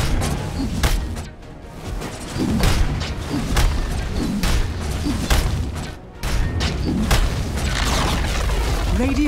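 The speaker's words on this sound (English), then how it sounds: "Radiant's middle tower is under attack." Dota 2 tower under attack: a dense barrage of loud booming impacts and crashing thuds, repeating irregularly and nearly continuous throughout, with brief dips before the blasts resume.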